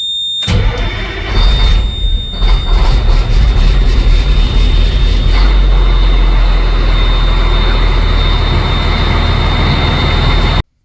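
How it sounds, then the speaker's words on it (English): A loud, heavy diesel engine of an MTVR MK23 7-ton military truck cranks and roars to life, then settles into a deep, steady rumbling idle with a constant high whine above it. "So let's try and start the truck."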